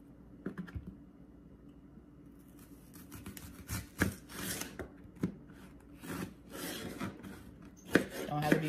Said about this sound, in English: get all the rest of this onion cut